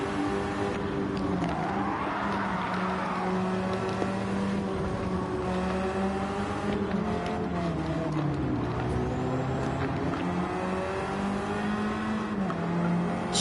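A video game racing car engine drones steadily throughout, its pitch rising and falling with shifts and acceleration, loud and close with no talking.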